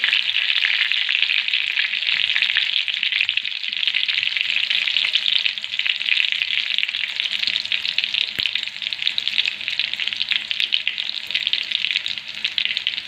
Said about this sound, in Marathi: ठेचून घेतलेला लसूण मी टाकून घेणार आहे आपल्याला लसूण आहे एकदम मस्त लाल ब्राऊन रंगावर येईपर्यंत मस्त परतून द्यायचं आहे